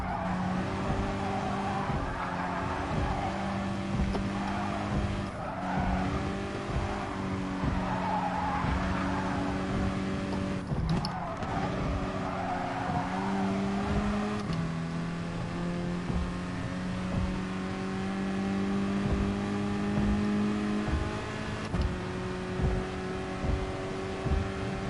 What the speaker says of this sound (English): I should be able to rev it a bit more now this time.